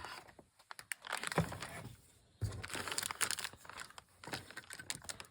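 The plastic bag of a Revell 1932 Ford five-window coupe model kit is cut open and handled, giving bursts of close crinkling and rustling plastic with short pauses between them.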